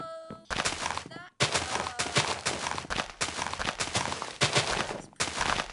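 TNT blocks detonate in Minecraft in a rapid string of loud, booming explosions, several bursts following one another over a few seconds with brief gaps between them.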